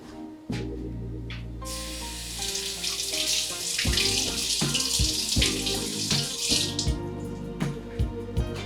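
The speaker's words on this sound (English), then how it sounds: "So we're gonna do our mushrooms and rinse some of these off." Tap water runs steadily into a kitchen sink while mushrooms are rinsed beneath the stream, a close, continuous splashing gush with shifting spatter as the water hits the food and basin, no talking over it.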